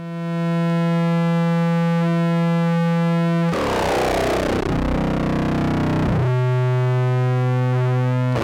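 A Doom modular synthesizer tone with heavy distortion sounds as a steady buzzing harmonic drone, broken midway by a dense noisy sweep that falls in pitch before the sustained distorted tone returns.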